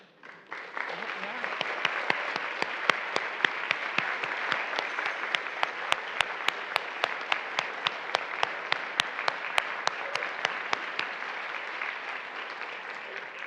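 Congregation giving a long round of applause, steady broad clapping with distinct sharp individual claps punctuating it rhythmically, building in quickly and holding for the full stretch.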